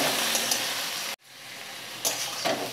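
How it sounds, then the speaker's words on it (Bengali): Papaya pieces fry in a pan, a dense, steady sizzle that drops out for a moment and then resumes, with faint stirring scrapes near the end, close and moderately loud. "এবার নেড়ে চেড়ে পেঁপেটা একটু ভেজে নেব।"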